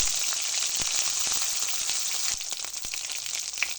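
Ginger, garlic, dried chillies and onion with garam masala paste hitting hot mustard oil, giving a loud, dense, continuous sizzle close by, with a few soft clicks near the end and no voices.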